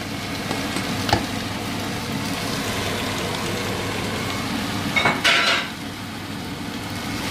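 Onions sautéing in a pan, a steady low sizzle with a few sharp scrapes and knocks of stirring, one louder clatter near the end.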